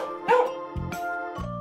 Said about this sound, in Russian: Это собака!